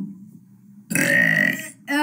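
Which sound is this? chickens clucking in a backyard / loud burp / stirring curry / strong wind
loud burp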